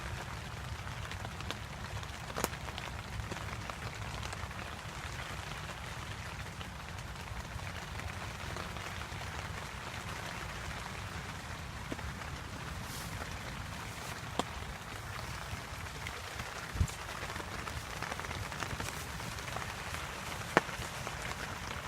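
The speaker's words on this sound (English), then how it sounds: "Raining pretty hard." Heavy rain falls steadily outdoors, a constant soft wash on surfaces with occasional sharper drip taps, fairly faint and even throughout.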